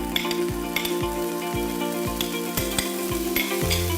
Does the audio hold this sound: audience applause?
no